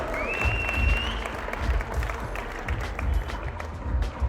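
Audience applause fills a football freestyle competition in Armenia: dense, steady clapping from a crowd, fairly loud and continuous, with a thin whistle rising above it early on.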